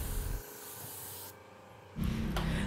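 A car body panel is sanded by hand with sandpaper, 240 then 320 grit, in a broad steady rubbing hiss that drops away briefly mid-clip, then returns louder and closer.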